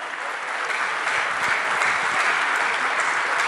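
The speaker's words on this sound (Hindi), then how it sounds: "आप सभी के लोगों के लिए एक बार जोरदार तालियां होनी चाहिए" Loud, sustained applause from a large audience of distributors at a corporate achievers' day event, dense clapping filling the space steadily without a break.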